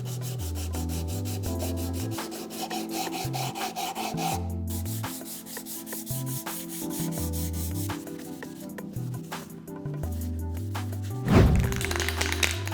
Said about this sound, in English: we also want to clean up the surfaces here and sand to finish